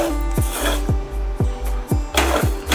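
Cumin seeds (jeera) dry-roasted in a pan and stirred steadily, a scraping stroke about every half second over a low steady hum, close and fairly loud.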